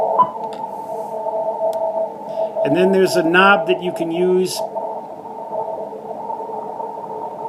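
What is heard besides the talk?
noise on CW reception, ICOM IC746 Pro radio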